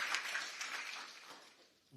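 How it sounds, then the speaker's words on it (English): An audience at a Juneteenth event stands and applauds, a faint, steady patter of clapping that slowly fades over the two seconds. "who's all standing and clapping."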